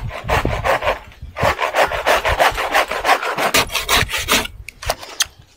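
A hand saw cuts through a tree trunk being felled for firewood, with quick, rhythmic back-and-forth rasping strokes up close. The strokes pause briefly near the end, then a few more follow.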